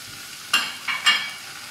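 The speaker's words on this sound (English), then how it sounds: "I'm going to dip in the tomatoes right now." Tomatoes tipped into onions already frying in a pan set off two sharp, loud sizzling bursts about half a second apart, each fading into a steady hiss, with no voices.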